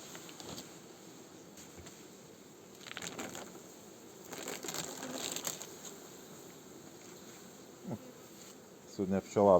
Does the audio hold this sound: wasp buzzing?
yes